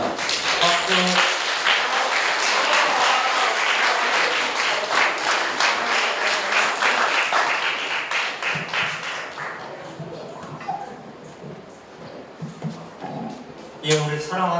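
School assembly audience of middle school students claps for the principal at a high school admissions briefing, a loud burst that fades after about eight seconds, leaving sparse claps and a few voices in the hall.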